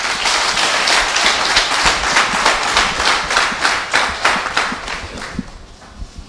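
Applause at a youth entrepreneurship programme ceremony, dense sustained clapping from a large audience with rhythmic surges, loud and continuous before easing slightly toward the end.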